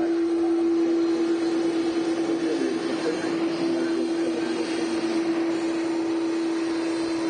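Steady roar of Aer Lingus Airbus A330 jet engines at Manchester Airport, a constant loud whine with a strong droning hum, unbroken for several seconds.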